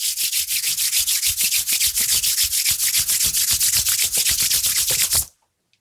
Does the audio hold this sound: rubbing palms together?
yes